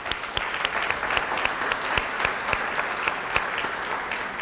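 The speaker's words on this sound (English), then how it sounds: "please, everyone, give all of these volunteers and businesses a round of applause as well" Sustained applause from the audience at a crime-line dinner and top cop awards event, a dense steady patter of many hands clapping together in a large room, with no talk over it.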